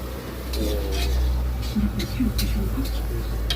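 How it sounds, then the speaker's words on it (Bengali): Onions fry in a pan at an outdoor cooking spot in the Sundarbans, a soft sizzle mixed with scraping and clinking from a utensil being stirred, while people talk over it. "এখন এই পেঁয়াজ ভাজা চলছে"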